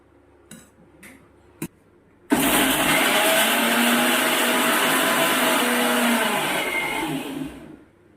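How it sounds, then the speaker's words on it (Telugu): A few faint clicks come first. Then a kitchen mixie blender roars to life, grinding cooked nalleru into paste with a loud, steady whir for about five seconds before it winds down. "దీన్ని మెత్తగా మిక్సీకి వేసి పేస్ట్ చేసుకుంటాము"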